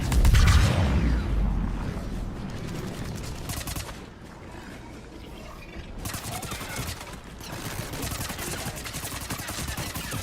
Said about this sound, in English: I think they're just shooting the wall.